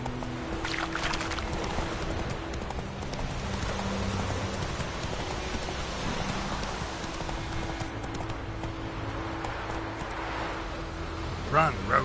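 Roach the horse gallops in a video game: steady rhythmic hoofbeats thud continuously at close range under a noisy outdoor wash, with a brief sharper sound near the end.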